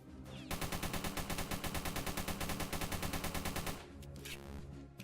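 Automatic gunfire in the Roblox game Military Warfare Tycoon: a loud, rapid, evenly spaced burst of shots lasting about three seconds, followed by trailing game noise and rumble.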